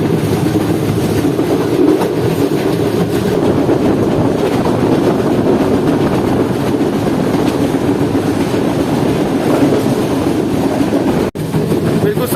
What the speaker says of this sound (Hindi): और अब ट्रेन पूरा कर्व लेकर जो है वो सामने जाएगी